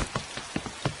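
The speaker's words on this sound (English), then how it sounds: "The rain's too heavy to play in now." Heavy rain falls in a children's cartoon, a dense patter of drops on a surface with soft, regular splashy pulses repeating through the second, steady and fairly quiet with no voices.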